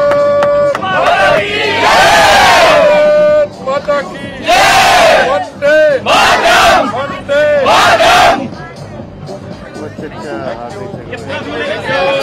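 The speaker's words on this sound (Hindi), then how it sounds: "एक बार जोर से ताली हो जाए" A large crowd at a Unity Day event for Sardar Vallabhbhai Patel's birthday cheers and shouts in loud, repeated bursts, with voices rising together and falling back to babble.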